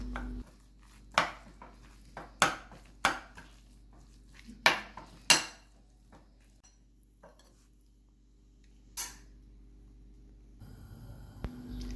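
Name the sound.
stirring garlic and onion mixture in a bowl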